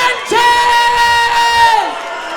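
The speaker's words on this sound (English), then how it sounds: "Give it up for Paula the Sanchez!" A crowd at an MMA fight event cheers and whoops loudly as a fighter is announced, with an announcer's amplified voice ringing over the roar.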